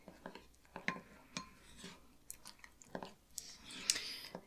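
Elmer's glue and pom-poms being stirred together in a mixing bowl, giving quiet, irregular wet squelches and soft clicks close up.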